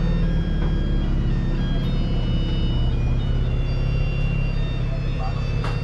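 Steady traffic rumbles past nearby in Seoul, South Korea, a constant low engine drone with murmuring voices mixed in.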